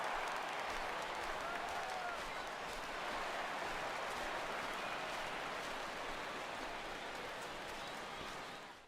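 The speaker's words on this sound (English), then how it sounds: "he receives a nice ovation from this home crowd" A home crowd at a 2021 White Sox vs Indians baseball game gives a departing pitcher a sustained ovation, a dense, even wash of applause that holds for several seconds before cutting off.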